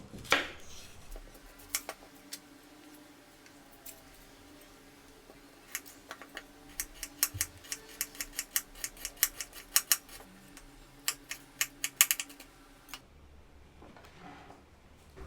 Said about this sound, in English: We cut it very small.